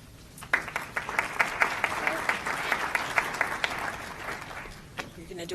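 An audience at an October 2014 board meeting breaks into applause, a run of close, crisp claps that builds over a few seconds and fades away near the end.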